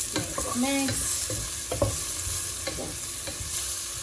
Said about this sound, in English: So now the mushrooms are done, beautifully sauteed.